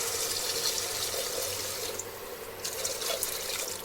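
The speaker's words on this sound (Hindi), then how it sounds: "और ये हम पानी डाल देते हैं" Water pours into lentils in a cooking pot, a steady close splashing trickle that keeps going throughout, briefly easing and then picking up again near the end.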